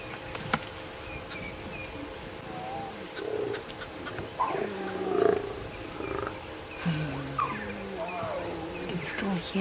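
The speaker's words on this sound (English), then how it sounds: "the lioness is snarling at them" Lion cubs begging with high calls while a lioness snarls at them on a safari drive in the Nkuhuma area, moderately distant growls and squeals over steady insect and bird background noise.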